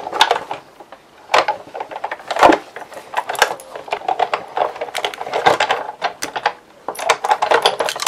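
A manual die cutting machine cranks a flower die set and acrylic mat through on paper, making a run of close, irregular mechanical clicks and creaks with sharper knocks along the way.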